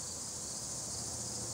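Crickets, bugs and locusts chirp outdoors on a humid day, making a dense, steady high-pitched buzz with no break.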